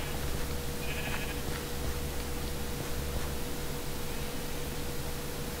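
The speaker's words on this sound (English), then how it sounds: "There's some more sheep." A sheep bleats in the Minecraft video game, a short faint call heard once under a steady hiss of background noise.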